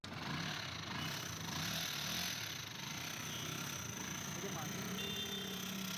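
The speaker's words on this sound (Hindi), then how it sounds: "इस गाड़ी का हेड सेंटर फिट करने के बाद जो इंजन का साउंड है, जो इंजन की पिक है जी दोस्तों, वो भी आपको चेक करवाएंगे" Loader 150cc motorcycle engine running steadily after its cylinder head was refitted, a continuous close mechanical drone with rattling texture holding even for the whole stretch.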